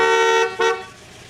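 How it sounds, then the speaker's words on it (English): A 1988 GAZ-24 Soviet sedan's horn sounds in two short toots, the second brief and sharp, with a slightly dated, buzzy tone close by. "the horn, which sounds very 1970s."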